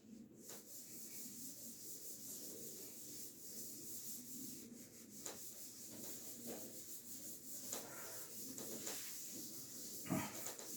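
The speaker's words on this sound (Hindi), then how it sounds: "तो अब मैं यहां से इसको रब कर रहा हूं" Soft, steady rubbing as writing is wiped off a classroom board during a maths lesson, a faint continuous scuffing with a few slightly louder strokes and no talking.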